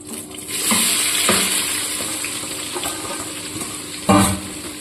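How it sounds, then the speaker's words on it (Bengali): Chopped onions drop into hot oil with whole black peppercorns and cinnamon for a mutton and potato curry, giving a continuous close sizzle with stirring scrapes and a sharper burst of frying near the end. "অ্যাড করে দিচ্ছি পেঁয়াজ কুচি।"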